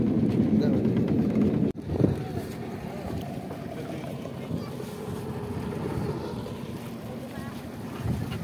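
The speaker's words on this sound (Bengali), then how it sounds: "নৌকাটি ছেড়ে দেওয়ার সময় হলো।" A river boat pulling away from a ghat on the Kaljani river, a steady low rumble with wind noise throughout after a brief dropout near the start.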